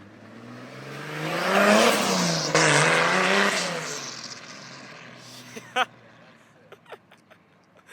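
A 500-horsepower Nissan S14 with a swapped 2JZ engine pulls hard, its exhaust note climbing and dipping through a loud sustained rev before backing off to lighter bursts and quieter rumble.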